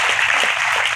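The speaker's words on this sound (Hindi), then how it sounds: "मैं आपसे आग्रह करूंगा एक बार जोरदार ताली बजा के उनका भी स्वागत" An audience at a speech on Sharad Purnima 2021 applauds to welcome MP and state party president V.D. Sharma, a brief burst of broad, steady clapping filling the space with no talking.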